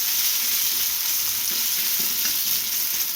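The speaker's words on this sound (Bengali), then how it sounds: "আমি একটা পেঁয়াজ কুচি করে রাখছিলাম, সেটা দিয়ে দিলাম। পেঁয়াজটার কাঁচা স্মেলটা মিটা পর্যন্ত আমি পেঁয়াজটা একটু ভাজা ভাজা করে নেব।" Chopped onion frying in hot oil gives a steady, close, bright sizzle with faint stirring, and no voices.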